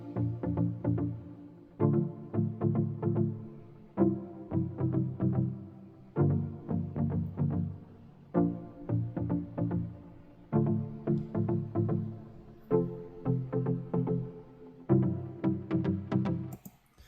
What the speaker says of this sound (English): So what also comes in verse 1 is these chords.